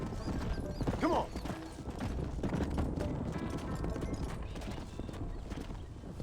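In the Red Dead Redemption video game, horse hooves clip-clop in an even rhythm at close range, with a brief whinny and faint background mechanisms.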